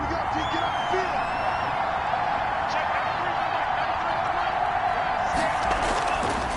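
Steady, dense stadium crowd roar from an American football video game, a loud continuous wash of home-field noise with scattered cheers, running beneath the game's commentary throughout.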